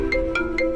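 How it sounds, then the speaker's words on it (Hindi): A phone ringtone for an incoming call plays a short, bright repeating electronic melody of evenly spaced tones, loud and close, with no voices. "फोन आ रहा है"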